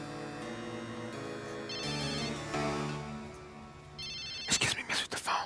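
A mobile phone ringtone sounds from an audience member in a crowd, a melodic repeating tone over loud background noise, followed by a few sharp louder bursts near the end.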